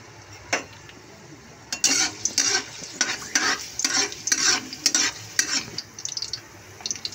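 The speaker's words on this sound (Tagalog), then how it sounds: "Gisa na natin ang bawang." Garlic sautéing in hot oil in a home kitchen, a steady sizzle broken by repeated scraping stirs of a utensil against the pan, close and fairly loud, with no talking.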